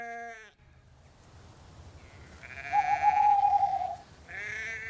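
Sheep bleat in an animated story setting, one call at the start and another at the end, with a soft tone rising in between over quiet background.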